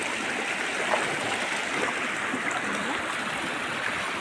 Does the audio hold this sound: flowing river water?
yes